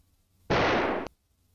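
A gunshot fired at a file cabinet in the video game Deja Vu: one loud, close burst lasting about half a second, then cut off.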